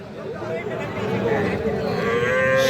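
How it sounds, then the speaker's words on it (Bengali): A young Sahiwal heifer calf at a busy cattle market lowing in one long, sustained moo that swells toward the end, over crowd chatter. "এটাও একটা বকনা বাছুর"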